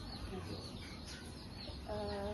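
Chickens cluck softly amid a steady hum of farm noise, with a brief higher call near the end.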